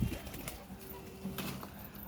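Pet pigeons coo softly at dusk close by, with low murmuring calls and a faint rustle or flutter.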